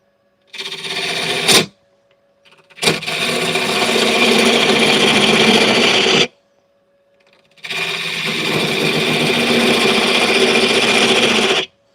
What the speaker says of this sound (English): Basically chipping away at end grain right now, right?